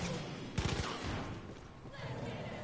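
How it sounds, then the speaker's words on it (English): Gunfire aimed at the player in Far Cry 5 arcade mode: a short burst of rapid close shots cracks out early, followed by fainter scattered shots amid murky background game noise. "Oh, I'm being shot by the queen."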